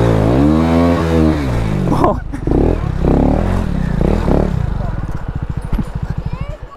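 A KTM Duke 390 motorcycle engine revs hard as the bike strains up a steep slope, loud and close, the roar rising and then breaking into rapid pulsing bursts as the rider works the throttle; a person talks over it.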